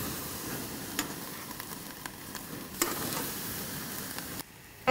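Pork steaks coated in Cajun spice sizzling on braai coals outdoors, a soft, steady crackling hiss with occasional sharper pops, fairly faint and without talk, cutting off near the end.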